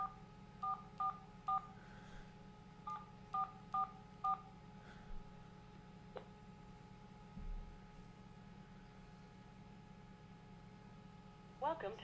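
A run of touch-tone keypad beeps dials into a conference phone line, several short clusters of tones over a steady low hum and faint line noise.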